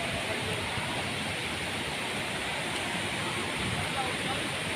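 Cold, clear water pours down a falls in an unbroken, even roar of white noise that holds steady throughout, fairly close at hand.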